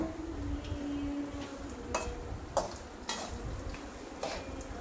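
Garlic frying in a pan for a nutmeg-rind medicinal pickle is stirred in several distinct scraping strokes with light clinks, all under a steady low sizzle at moderate volume.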